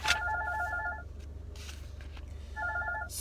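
A telephone rings in short electronic trill bursts, one at the start and another near the end, with a quiet room hum in between and no talking.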